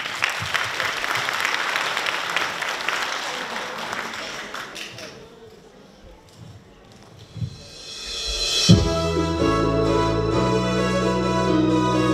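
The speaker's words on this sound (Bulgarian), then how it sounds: "Моля за вашите аплодисменти." At a kindergarten children's festival, an audience claps for young athletes about to perform aerobics. Applause fills the first few seconds, fades out by the middle, and then music starts up and carries on to the end.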